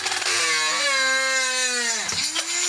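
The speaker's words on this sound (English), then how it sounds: "I'm just going to see if I can make a hole with the Dremel." A Dremel rotary tool drills into a thrifted metal teapot, giving a loud, continuous high-pitched whine that dips and recovers as the bit bites, close and alone without talk.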